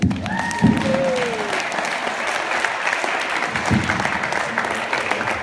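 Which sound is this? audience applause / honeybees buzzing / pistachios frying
audience applause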